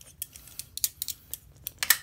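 A locking carabiner clips onto a rope access window cleaning bucket kit, giving a few sharp, close metallic clicks and snaps spaced irregularly against near silence.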